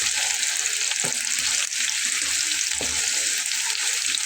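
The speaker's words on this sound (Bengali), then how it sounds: "বেশ কিছুক্ষণ আলুটাকে আমি এভাবে ভেজে নিয়ে পরে আমি পেঁয়াজ দিব" Potatoes sprinkled with salt fry in a pan of oil, a loud, continuous close-up sizzle with a few soft stirring bumps underneath.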